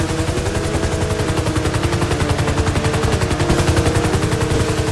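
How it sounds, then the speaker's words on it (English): Rapid automatic gunfire in the video game GTA V during a driving sequence, dense loud bursts of machine-gun shots repeating continuously over engine noise. "I'm just gonna drive. I'll let those guys shoot."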